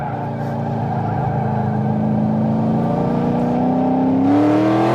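A turbocharged Mazda Miata engine on a race track pulls hard under acceleration, its loud, steady drone climbing in pitch toward the end of the run, with no talk over it.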